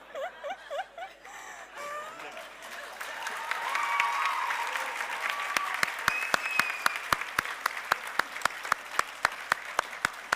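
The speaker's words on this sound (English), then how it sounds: "Applause to Lady Marion" Applause for Lady Marion as she is knighted, a warm crowd clapping that swells and holds, joined near the end by a run of loud, sharp individual claps close by, with faint voices and chuckles mixed in.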